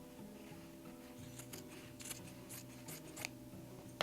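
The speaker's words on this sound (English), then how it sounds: "so I'm going to cut this off right now." Scissors cut through denim jeans up close, giving a series of quiet crisp snips and rustles of fabric over a faint steady background hum.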